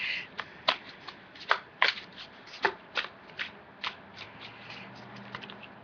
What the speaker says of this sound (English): I'm going to also pull quickly from the Angel Tarot deck